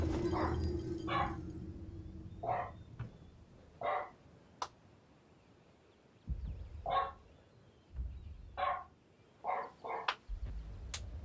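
A dog barks repeatedly in short bursts, the barks moderately close and spaced irregularly, some in quick pairs, over a low background rumble with no talk.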